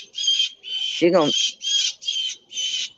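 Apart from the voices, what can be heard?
blue jay calling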